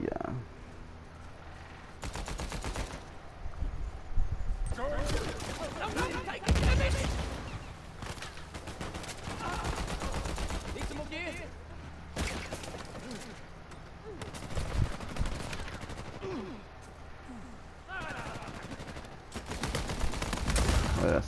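Rapid gunfire from Uncharted 4 multiplayer combat, dense bursts of automatic shots and heavier blasts in repeated clusters, loud and close, with brief gaps between volleys.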